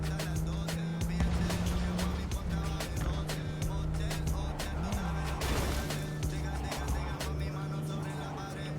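Steady car engine drone with music-like tones in Cyberpunk, continuous and loud, with brief tire-like squeals mixed in as the car skids.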